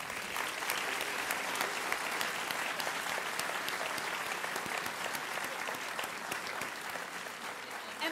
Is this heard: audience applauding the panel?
yes